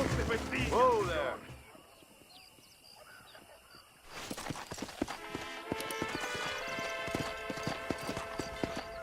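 A voice speaks briefly, then after a quiet stretch horse hooves clip-clop in a quick, steady rhythm, close and fairly loud, in the video game Red Dead Redemption.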